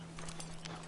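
Faint clip-clop of horse hooves in the video game Red Dead Redemption 2 Online, a few soft evenly spaced steps over a steady low hum.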